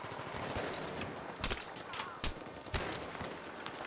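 Rapid gunfire from the Battlefield 3 multiplayer video game, dense bursts of automatic fire with a few louder sharp shots standing out, continuous throughout.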